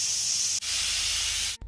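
A pressure cooker vents steam while beef and bottle gourd cook, giving a loud, continuous hiss that stops briefly, resumes, then cuts off near the end.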